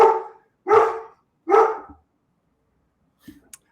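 A dog barks three times in quick succession, loud and close, followed by a pause and a couple of faint clicks.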